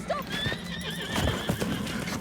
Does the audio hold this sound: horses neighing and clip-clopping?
yes